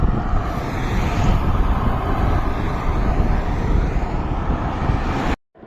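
Strong rushing headwind roars against the microphone for several seconds while cycling downhill, a constant buffeting noise that cuts off abruptly near the end.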